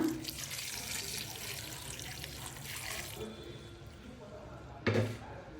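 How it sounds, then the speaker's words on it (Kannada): Water pours from a vessel into a pot of bamboo shoot sambar with field beans, greens and salt, a rushing splash for a few seconds followed by quieter trickling and a single clunk. "ನೀರು ಹಾಕೋಣ"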